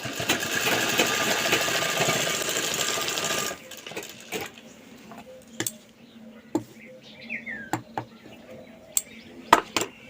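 A sewing machine stitches an old petticoat in a steady whirring run for a few seconds, then stops, leaving scattered clicks and handling knocks in a quiet room.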